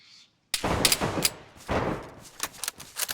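Gunfire in a shooting video game, a loud sudden burst after a moment of quiet, followed by several sharp shots and short bursts at irregular intervals.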